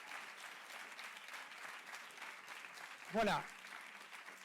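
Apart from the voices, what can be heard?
audience applause for conference speaker Olivier De Schutter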